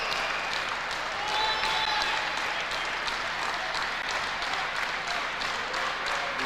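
A volleyball crowd at the Gates Sports Center roars with dense, sustained cheering and clapping that swells slightly and holds steady, filling the arena at a loud level without any clear voice above it.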